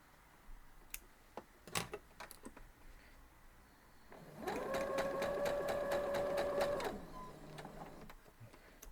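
A sewing machine stitches a quilt block in a steady mechanical whir lasting a couple of seconds, preceded by a few quiet clicks and taps, close and fairly soft.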